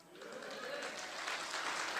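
Audience applause at a Korean prayer breakfast meeting in Gwangju, a steady dense clapping that swells and holds throughout, with a voice faintly audible underneath.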